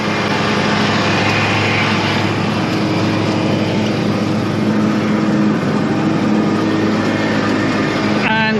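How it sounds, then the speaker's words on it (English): A ride-on lawn mower cutting grass along narrow strips. Its small engine drones steadily and loudly up close for the whole stretch, with a brief rattling click near the end. "so that's why I'm on this mower and not the orange one."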